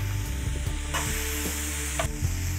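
A mushroom-stem filling with garlic and oyster sauce sizzles and is stirred in a pan, a steady close fry with a few scraping stir clicks.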